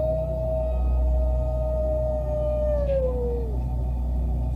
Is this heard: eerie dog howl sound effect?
yes